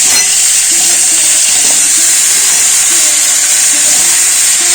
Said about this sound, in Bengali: আলুগুলো হালকা করে ভাজা হয়ে গেছে